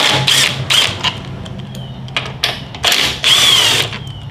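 Cordless driver with a T40 bit backing out two bolts on a 2022 Harley-Davidson Touring motorcycle, loud close whirring bursts in several short runs with pauses between them.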